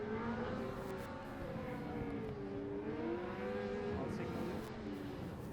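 A Formula Student race car from team Lemgo, car number 58, drives on track in an endurance event, its engine note rising and falling steadily throughout, moderately distant with a faint voice over the top.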